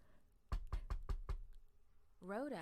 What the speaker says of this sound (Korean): 베드로는 마가 요한의 어머니 집으로 달려가 문을 두드렸어요.